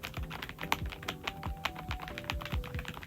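Rapid typing on a Redragon Antonium K745 Pro mechanical keyboard, crisp, close key clacks in an uneven, quick rhythm with a few heavier strikes, heard alone without talking.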